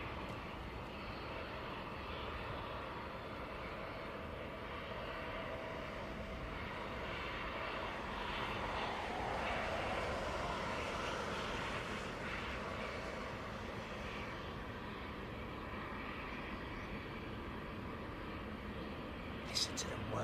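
An airliner just landed at Heathrow, its engines whirring in a steady broadband roar that swells slightly near the middle and stays continuous, heard close by; speech is faintly present.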